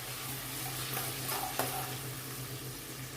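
Tempering water for Surati sev khamani is stirred in a cooking pot, a close, steady hissing and soft scraping texture with no talking.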